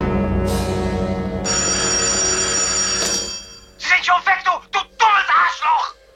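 A telephone rings in a scene from the comedy film Top Secret, its bell tone loud and close over music for about three seconds, followed by bursts of speech.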